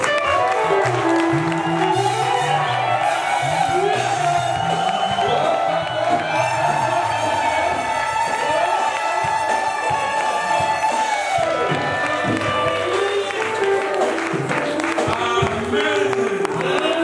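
A church congregation at an evangelistic sermon cheers and applauds loudly and continuously, a dense crowd roar with whoops and sustained musical tones underneath, voices mingling throughout.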